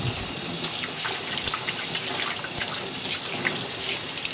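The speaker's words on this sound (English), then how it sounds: "Wash between the fingers, wash on the palms, wash everywhere." Water runs steadily from a kitchen tap during handwashing, a continuous close hiss and splash with no talk.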